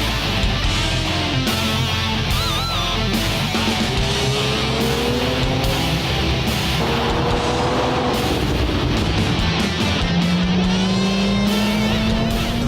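A 2019 Toyota Supra drives with a steady engine drone, rising and falling gently through gears against road and wind roar, loud and continuous throughout with no talk.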